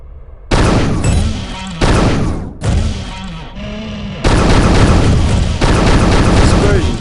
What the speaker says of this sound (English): Pistol doesn't pack a whole lot of punch, but it's always there for you because it never runs out of ammo.